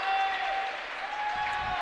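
Crowd in a college gym at a Division III women's basketball senior day game applauding as a player leaves the court: steady, moderate clapping from the stands, with a commentator's voice faint underneath.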